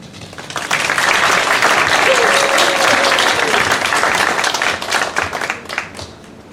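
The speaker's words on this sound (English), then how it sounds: "Let us give a round of applause to our esteemed guest." Sustained audience applause for an esteemed guest at a cultural awareness presentation, a dense, steady wash of many hands clapping that swells quickly, holds for several seconds, then tapers off unevenly near the end.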